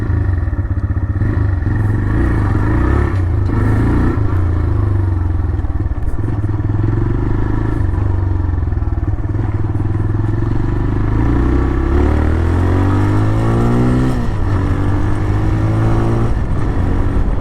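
A TVS Raider 125 motorcycle pulls away in first gear, its engine loud and close with a steady low drone, and the revs audibly rise and fall during the ride.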